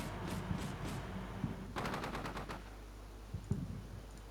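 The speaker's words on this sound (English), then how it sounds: "it's getting engaged from multiple sides by 25mm chain guns, Leopard main guns, machine guns" Machine gun and 25mm chain gun fire in Combat Mission: Shock Force 2, a few scattered shots early, then a rapid burst of rounds in the middle and a couple of distant single reports near the end.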